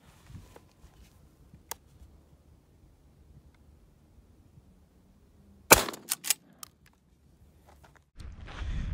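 Shotgun fired at a target while patterning choke tubes, a sharp close blast followed by quieter echoing cracks, in an otherwise quiet outdoor setting with faint rustling.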